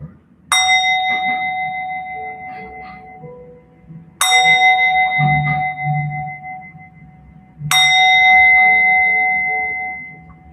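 Meditation bell struck three times at the close of a group session, each clear ring ringing out and slowly decaying before the next, loud and alone apart from faint room sound.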